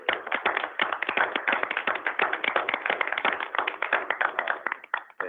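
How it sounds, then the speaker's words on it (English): A committee meeting audience gives a round of applause for a hospital quality team, a steady run of close, sharp hand claps lasting several seconds with no talk over it. "I just want to give the team a round of applause for their work"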